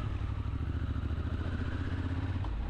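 A Triumph Scrambler 1200 X motorcycle rumbles on an open road with a steady, close engine throb and wind noise, and no voices.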